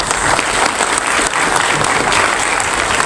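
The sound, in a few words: applause honoring students at a university function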